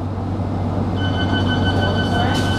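A London Underground District Line train bound for Wimbledon, heard from inside the carriage after leaving East Putney: a steady low rumble with a humming drone and faint high whine, continuous and fairly loud.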